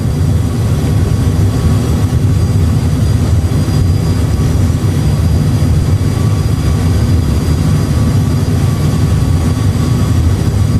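An Airbus A320 rolls out after a crosswind landing with idle reverse thrust and manual braking, a loud, steady low roar of engine and rushing air that stays constant throughout.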